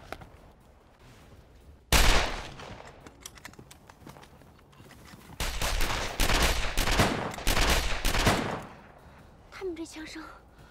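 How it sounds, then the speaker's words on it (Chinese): Gunfire in a wartime anti-Japanese drama scene erupts in two loud bursts of rapid, crackling shots separated by a quieter pause, with faint sounds trailing at the end. "这枪声好像是从天上打的呀"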